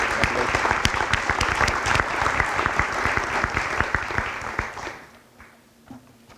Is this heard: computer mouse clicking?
no